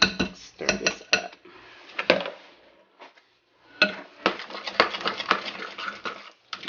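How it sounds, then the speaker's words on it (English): A metal spoon knocks and scrapes against a bowl while stirring buttermilk cornbread batter. Bursts of clinking come in irregular clusters, close and moderately loud, with brief quiet gaps between them. "let me use my spoon to better"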